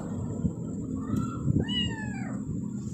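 A house cat meows indoors, first a short call and then a longer, rising and falling meow, fairly close, over a low background hum.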